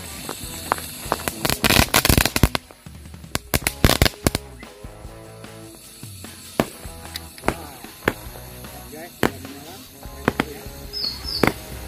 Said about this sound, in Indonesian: yang selanjutnya kita nyalakan mercon Weko Color 7 warna. Ini yang 100 shoot.